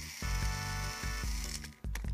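The motor of an old Trackmaster toy train whirring and rattling close by, a loud grinding mechanical buzz with rhythmic clicks and knocks, and no talking.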